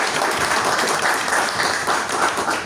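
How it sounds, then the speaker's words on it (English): Audience at a Toastmasters club meeting applauding: dense, continuous clapping throughout, loud and even, with no break. "Please give a round of applause to the Toastmaster"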